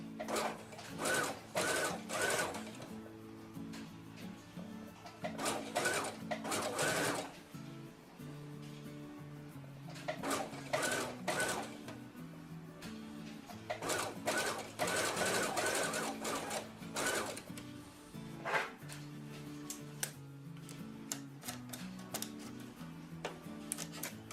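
A sewing machine stitches a seam on a lace bodysuit, running in steady bursts of rapid mechanical chatter, each a few seconds long, with short pauses between them, close and fairly loud.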